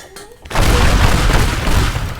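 A thrown bomb detonates in the voxel destruction game Teardown, a sudden loud broadband boom that swells at once and rolls on as a sustained, crackling rumble of debris, with no talk over it.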